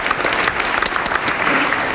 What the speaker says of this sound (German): gerne auch einen Applaus